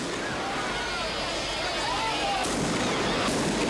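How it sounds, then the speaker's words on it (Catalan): Tocassons fire shots in a town square during a sardana dance: a couple of sharp, distant bangs over a steady, dense roar of crowd and ambient noise. "a partir d'ara es ballarà al so dels seus trets"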